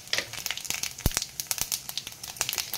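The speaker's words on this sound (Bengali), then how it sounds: "ওই তেলের মধ্যেই আমি এবার ফোড়ন দিয়ে দেব দারুচিনি, শুকনো লঙ্কা, তেজপাতা আর এলাচ" Whole spices for tempering, namely cinnamon, dried red chillies, bay leaves, cardamom and five-spice mix, crackle in hot oil, with dense rapid pops and sputters at close range and no talk.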